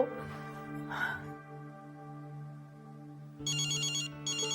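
A phone ringtone plays as a steady electronic tone, with bright high chiming bursts near the end; a brief voice is heard at the start.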